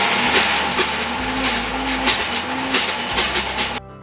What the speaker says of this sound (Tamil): இப்போது மிக்சியில் போட்டு வடைக்கு அரைக்க போகிறேன்.